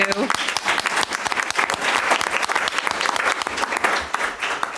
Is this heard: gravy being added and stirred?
no